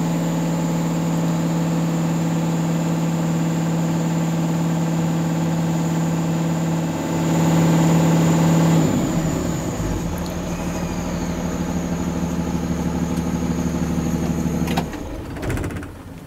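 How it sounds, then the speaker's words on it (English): A six-cylinder engine on an AutoMeter BCT-460 battery and charging test runs steadily, then revs up to governor speed to bring the alternator into range, holding a loud, sustained drone before dropping back near the end. "Then we're going to rev the engine to governor speed to get the alternator in its efficient range"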